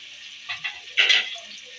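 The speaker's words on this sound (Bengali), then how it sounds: "এগুলো একটু ভাজা ভাজা করে নেবো।" Tomatoes, green chilli, ginger and cashews fry in a pan, giving a soft sizzle with a few short bursts and a louder crackle near the middle of the stretch.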